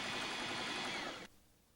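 A Memory Craft 7000 sewing machine straight stitches along a fold to make pin tucks. A short, fast whirring run sounds close and steady, then stops abruptly, leaving near silence, with no talk.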